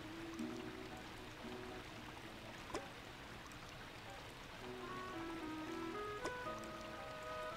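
A river flows in Animal Crossing New Leaf, a soft, steady trickling stream with faint babbling, quiet and continuous, with a couple of light ticks and soft chime-like tones over it.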